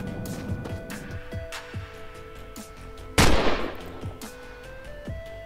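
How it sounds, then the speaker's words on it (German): Several sharp revolver gunshots ring out at irregular intervals in the game The Long Drive, one much louder and closer blast in the middle, over a steady game-like background tone. "Jetzt habe ich da reingeschossen."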